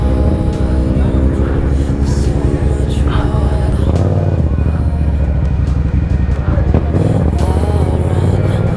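A dirt bike engine revs and roars loudly and close, rising and falling as the rider pulls wheelies, with a constant low rumble throughout.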